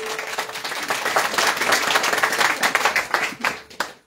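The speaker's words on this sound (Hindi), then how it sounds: "नमन बेटा को एक जोरदार ताली हो जाए भाई।" An audience at a Navaratri katha applauds a young performer named Naman with loud, dense clapping that builds steadily and then tapers off in a few final scattered claps.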